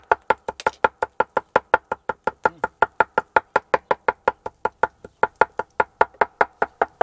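A knife chops onion and parsley on a cutting board for a kebab-shop salad in Adana, giving a fast, steady run of sharp, even knocks, close and distinct, with no talking.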